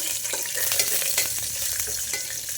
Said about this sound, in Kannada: ಈಗ ಸ್ವಲ್ಪ ಗೋಡಂಬಿ ಹಾಕ್ಕೊಂಡು ಹುರಿಬೇಕು.